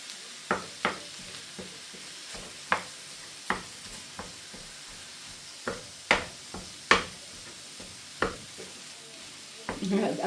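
Ground beef mince frying in a pan while being broken up with a utensil, giving a series of sharp scraping knocks at irregular intervals over a soft background sizzle.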